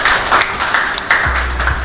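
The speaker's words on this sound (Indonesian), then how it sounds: "Kita tepuk tangan dulu dong untuk kita sendiri." A crowd claps at an Indonesian virtual concert event: loud, dense and continuous applause filling the whole moment, with a low steady hum entering near the end.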